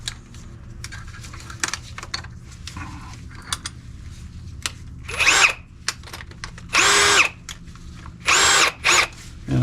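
A power drill boring a pilot hole in metal on a '69 Camaro RideTech cradle, the motor whirring in several loud, short bursts between quieter stretches of small tool clicks.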